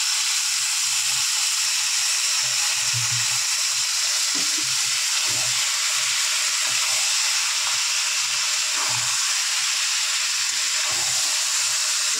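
Chicken liver fries in a pan for a spiced Bengali dish, a steady broadband sizzle and hiss running throughout with occasional soft low clunks of stirring, fairly close and without talk.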